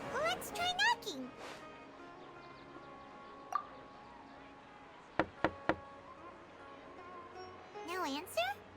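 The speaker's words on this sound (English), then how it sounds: "Let's try knocking." A door is knocked on in the game Genshin Impact, three quick, sharp raps near the middle of the clip, alone against faint background music. Spoken voices come before and after the knocks.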